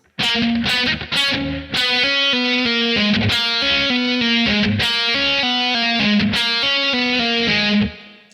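Distorted electric guitar plays a fast, repeating hammer-on riff of rapid legato notes, bright and driving, ending with a held note that fades.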